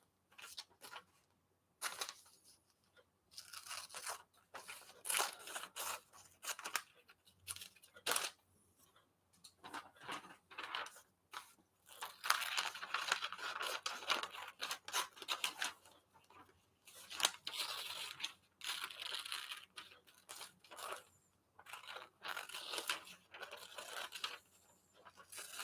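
Scissors snip through glossy magazine pages in a steady stream of short crisp cuts and paper rustles, fairly close and quiet, with occasional brief pauses.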